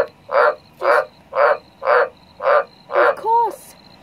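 A big frog inside a downpipe croaks six times in an even, loud, close rhythm of swelling resonant calls, then gives one final call with a bending, wavering pitch; no voices.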